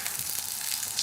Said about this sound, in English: So it's really just giving it a good fry and then taking it out. It's a sound you want to hear.